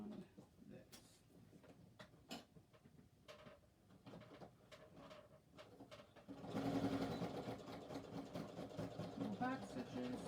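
A sewing machine runs short bursts of back stitches on a criss-cross shoulder bag, with rapid mechanical ticking and clatter, then a louder sustained whirring run, heard close and quiet with a voice speaking at points.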